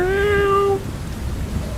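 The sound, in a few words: black cat meowing, audiobook sound effect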